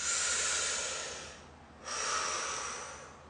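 Two long, airy inhalations through the nose during a seated fascial stretch, close and hissing, separated by a brief quiet gap.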